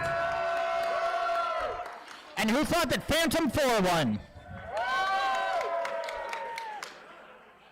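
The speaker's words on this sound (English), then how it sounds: "When I say that robot name, I want you to cheer as loud as you can for that robot." Crowd at a combat robotics event cheering and whooping for a robot, a brief loud burst of shouts between stretches of an announcer speaking.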